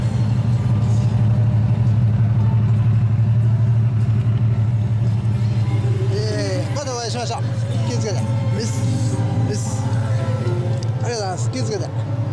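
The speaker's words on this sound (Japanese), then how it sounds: "エンジン音聞かせてもらえますか？" An early-model Honda Goldwing F6C 1800 trike with a one-off custom muffler idles nearby with a deep, steady, throbbing rumble. People chat over the engine in the second half.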